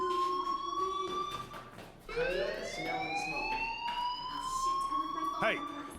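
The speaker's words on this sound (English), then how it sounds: "Hey, do you hear that fire alarm? That means you should be outside." A school fire alarm in the video game Life is Strange rings as a steady, loud electronic tone, then a rising, siren-like sweep, continuing throughout with voices audible alongside.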